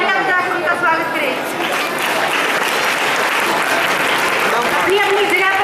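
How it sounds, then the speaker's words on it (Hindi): Audience at a school annual function breaking into sustained applause to welcome the chief guest, a dense steady wash of clapping hands filling the hall, with some voices calling over it. "मेरा आप सभी से अनुरोध कि आप तालियां बजाकर उनका स्वागत करें।"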